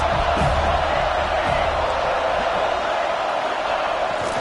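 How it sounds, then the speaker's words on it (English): A football stadium crowd at a Florida State versus Boise State game roars steadily to back the defense late in the game, a dense, constant mass of cheering and noise heard from within the stands. "this crowd is coming to help the defense"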